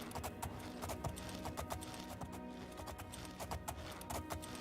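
Horse hooves clip-clop in quick, regular beats as a horse climbs a hillside in the Oblivion video game, faint and steady with a soft ambient bed beneath.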